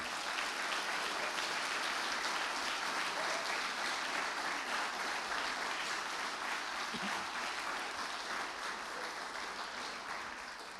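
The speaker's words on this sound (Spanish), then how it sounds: "Dale un aplauso al Rey este día." Sustained, dense applause from a large church congregation, steady and loud throughout before easing slightly at the end.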